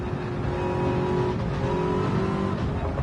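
Race car engine in the Le Mans VR racing game, a Porsche on track: a steady loud high-revving drone with slight pitch shifts around a gear change, alone without talk.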